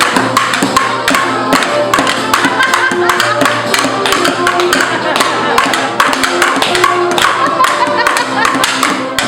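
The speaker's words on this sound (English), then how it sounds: "Give yourself a big clap" Children clapping along in a preschool music activity, steady loud claps and taps repeating throughout over a continuous instrumental backing, with bright percussive strikes.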